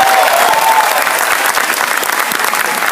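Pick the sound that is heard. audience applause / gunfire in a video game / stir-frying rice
audience applause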